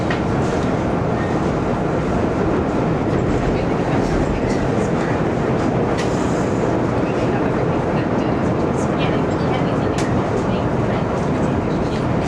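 A CTA Brown Line L train bound for Kimball rolls along near Washington and Wabash in Chicago, heard from on board as a steady, loud rumble with faint clattering and squeals, no talk.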